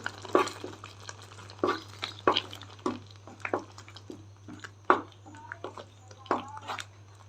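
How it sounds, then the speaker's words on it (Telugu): Spoon stirring okra curry with onion chili masala in a pan, a run of separate scrapes and soft sizzling knocks at an uneven rhythm, close and fairly quiet, with faint talk in the background. "ఇప్పుడు కొంచెం బాగా కలిపేసుకుందాం"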